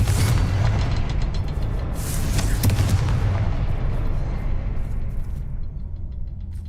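A Confringo fire blast spell explodes in the Hogwarts Legacy video game, a heavy booming burst followed by crackling impacts that roll on and slowly fade away over several seconds, loud and close with no talk.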